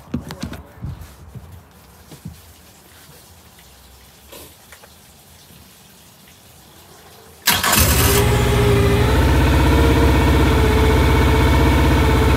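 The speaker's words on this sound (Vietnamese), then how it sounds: "Ok, nổ máy lên đi." A Mercury 90 hp four-stroke outboard with a stator that is not charging cranks and fires up, then settles into a loud, steady idle, preceded by quieter clicks and handling noises and some faint background chatter.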